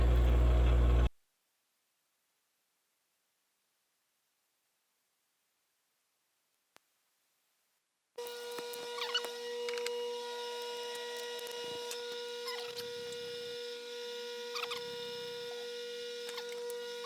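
A Hardinge HLV-BK lathe takes a scratch pass on a precision ER20 shaper spindle coated with die-chem. After a short loud burst and a long silence, a steady machine hum with a high tonal whine runs evenly to the end.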